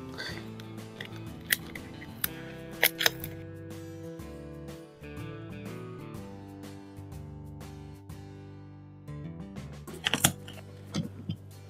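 A cardboard HO/OO scale railway station diorama model kit is opened from its flap pouch, with scattered close snips and crinkles over steady background music.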